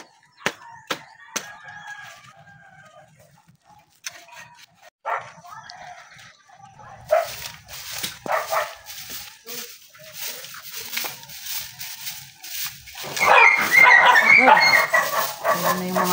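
Several dogs bark in sharp, scattered bursts around a yard, some close and some farther off, with a rooster-like call and people talking among them.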